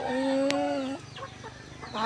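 A long drawn-out crow from a rooster rings out nearby, followed by a few softer clucks and another call starting at the end.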